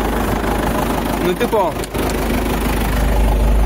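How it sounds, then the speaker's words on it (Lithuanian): A tractor engine idles with a steady low throb on a farm, while someone speaks briefly over it. "Varom traktorių pastatyti."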